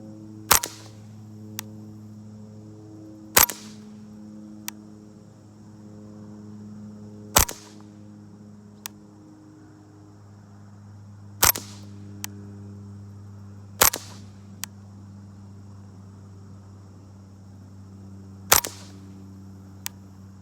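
Suppressed .22 shots from a Kar98k-style rifle firing CCI Clean 22 ammunition in woodland, each a short sharp crack followed by a fainter clink, spaced a few seconds apart over a steady low hum.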